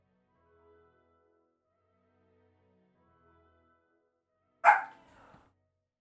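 A pet dog lets out one sharp, loud bark close by, trailing into a brief rough tail, in an otherwise quiet room with only faint background sounds before it.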